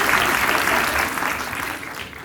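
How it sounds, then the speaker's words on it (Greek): A live TEDx audience at the University of Crete claps after a Rubik's cube magic trick, a dense, loud wash of applause that slowly thins toward the end. "Ένα χειροκρότημα"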